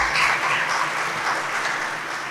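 Steady applause from a seated audience at a Gujarati community gathering honouring a student, with dense continuous clapping that holds for the whole stretch and fades only a little near the end.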